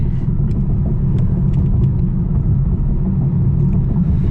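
Steady road and engine rumble from a 2020 Mercedes-AMG A35 cruising on a highway in Comfort mode at about 73 mph, a constant loud low drone with tyre and wind noise and no talking.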